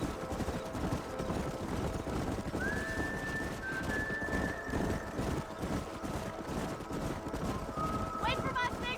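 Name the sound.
horse hooves and galloping in Red Dead Redemption video game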